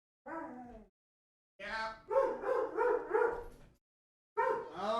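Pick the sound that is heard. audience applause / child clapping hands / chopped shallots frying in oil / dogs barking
dogs barking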